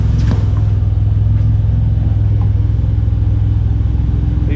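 A stock Holden Ecotec V6 with a turbo idles steadily while warming up, a loud, close, continuous low rumble that stays even throughout with no talk over it.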